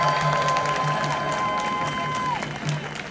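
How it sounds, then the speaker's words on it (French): Crowd at an outdoor Palestine solidarity rally in Lyon applauding and cheering, a dense, steady wash of claps and shouts close to the microphone, with a sustained tone running through the first two seconds. "qu'on peut applaudir très fort"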